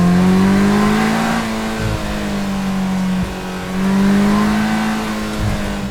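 A Polaris Slingshot R roars at high RPM, its engine note rising, dipping between shifts and climbing again, loud and close with no talking.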